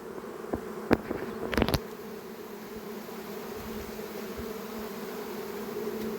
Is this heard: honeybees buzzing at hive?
yes